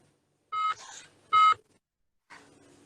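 A phone's short electronic beeps from an incoming call during an online meeting sound in three clipped bursts separated by silence, clear and close, with no talk.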